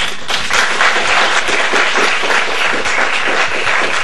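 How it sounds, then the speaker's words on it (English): Studio audience applause on a talk show, steady clapping throughout at a loud, even level with no talk over it. "Okay, Rose. Give him applause."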